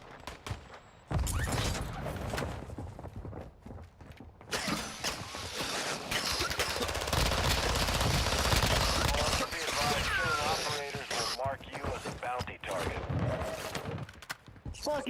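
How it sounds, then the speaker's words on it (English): Gunfire erupts from behind during a Call of Duty DMZ match, with repeated shots and mechanical clatter running dense and loud over sustained game noise, under intermittent talk. "we're getting shots from behind"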